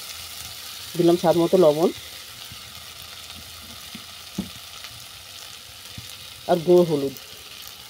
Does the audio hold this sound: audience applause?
no